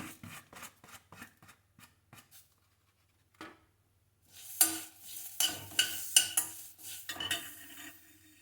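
Pudina leaves and spices dry roasting in a pan without oil, stirred with a spoon: a run of regular scraping strokes, a brief pause, then louder, brighter scrapes and rustles close by.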